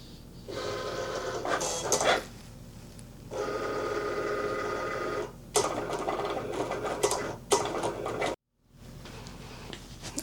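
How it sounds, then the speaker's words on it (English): A Cricut cutting machine cuts vinyl with close, buzzing motor whirs that come in several bursts and stop between passes, with no talk. "we're going to let the Cricut cut this out"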